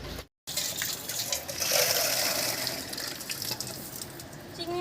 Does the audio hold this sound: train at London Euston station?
no